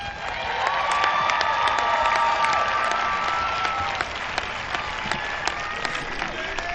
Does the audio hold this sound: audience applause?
yes